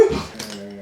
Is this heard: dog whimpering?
yes